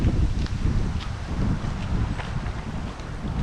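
Moderate wind blows outdoors on a woodland walk, a continuous rough rush buffeting the microphone with low rumbling gusts throughout and no voices.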